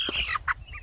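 Chickens with soft feathering give a few short, close clucks and chirps in a quiet coop, brief bursts with small pauses between them.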